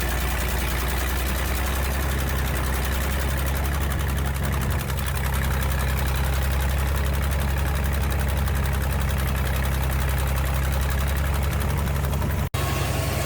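A Frick sawmill engine with dual carburetors runs steadily under governor-controlled throttle, giving a loud, continuous low rumble with a rapid, even mechanical beat and one brief sharp click near the end.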